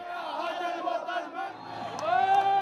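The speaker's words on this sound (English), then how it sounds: "he was drowned out by the chanting" Protesters facing riot police at a 2002 Middle East demonstration chant loudly in unison, with a steady, rising roar of many voices that grows stronger toward the end.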